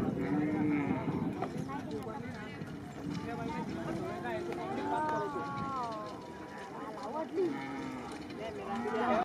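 Bullocks and horses run in a bullock cart race at a village racing ground, with hoofbeats, lowing cattle and a noisy crowd throughout, while people shout and talk over the action.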